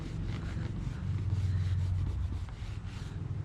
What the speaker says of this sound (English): just a bit of polish and just a microfiber, just to see if we can just polish out